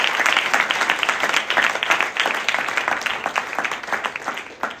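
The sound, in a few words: audience applause for a member of Congress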